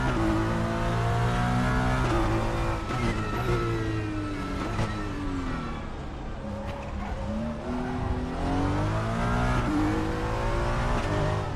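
A race car in RaceRoom runs a flying lap, its engine note climbing and falling steadily through gear changes, with revving pitch sweeps and occasional tyre scrub, loud and continuous with no talk.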